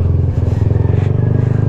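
A Kymco Xciting 400i scooter on the move, its engine giving a steady, close, throbbing drone with a slight rise in pitch partway through; no talking.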